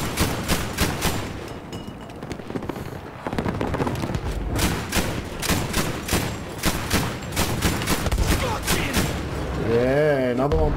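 Rapid bursts of aircraft gunfire from the video game Battlefield V crackle in repeated volleys over busy battle noise, with a rising engine whine near the end; a player talks over the action.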